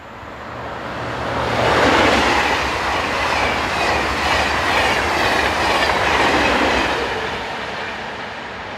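A TGV high-speed train sweeps past nearby in a steady, loud broadband roar that swells and holds for several seconds before easing slightly, with no talk over it.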